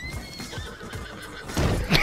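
A horse in Red Dead Redemption Online neighs with a rising, shaky whinny near the end, over faint hoof clatter and background noise.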